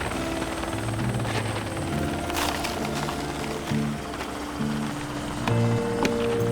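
A helicopter's rotor chop and engine whine hold steady and fairly close under a rhythmic music score, with no talking.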